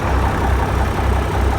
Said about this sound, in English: this is solid running tractor